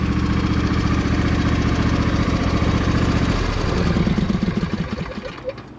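John Deere 100 series lawn tractor engine idling with a light valve tick, a steady close putter that runs evenly and then settles and fades slightly near the end.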